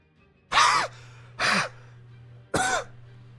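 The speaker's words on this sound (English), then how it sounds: "sorry about the cough thing" Three harsh, close coughs spaced about a second apart, each a short raspy burst over a low steady hum.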